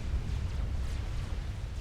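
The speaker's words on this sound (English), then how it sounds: "And there's just tons of explosions all over the place." Continuous rumbling explosions from Supreme Commander, the strategy video game, with dense booming that rolls on without pause and strong low-end weight.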